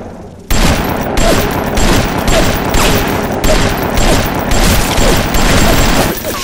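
Dense, sustained gunfire from the BioShock video game, loud and close, starts abruptly after a brief quiet lead-in and rattles on in rapid overlapping bursts for several seconds.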